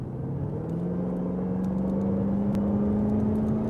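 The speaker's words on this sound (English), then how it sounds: "that mixture of the supercharger whine and then the HEMI V8 that just takes over" A 2021 Dodge Durango SRT Hellcat's supercharged HEMI V8 roars loud and steady, its supercharger whine rising in pitch above the deep engine drone as the revs climb.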